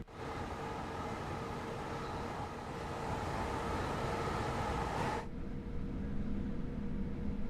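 A Southeastern high-speed train in Train Sim World, a continuous loud rolling rumble and hiss that drops to a darker, muffled drone partway through.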